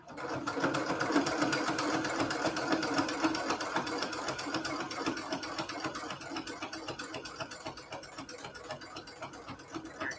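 A sewing machine back stitching, a rapid steady mechanical chatter of needle strokes running close and continuous, slightly fading toward the end.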